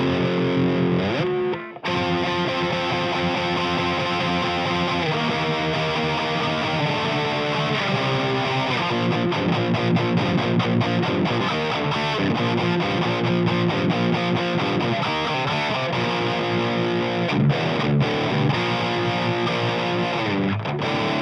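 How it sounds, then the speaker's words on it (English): Heavily distorted thrash-style electric guitar through an Audio Assault X3 amp simulation with a tube screamer engaged, playing dense, continuous chugging riffs at a steady loud level. "That is basically the amp sound with the tube screamer in."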